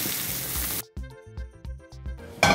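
Queijo coalho cheese browning in a pan gives a loud, close sizzle for just under a second, then drops to quieter tonal sounds and sharp knocks before the sizzle briefly flares again at the end.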